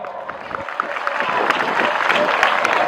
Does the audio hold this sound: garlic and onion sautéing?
no